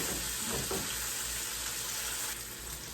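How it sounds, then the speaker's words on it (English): Bacon frying in a pan, a steady, dense sizzle and crackle that stays loud and close throughout, with no voices. "Come on, bacon, cook."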